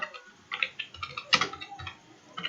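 Someone types on a computer keyboard at a command prompt, producing a quick irregular run of soft, close key clicks with small gaps.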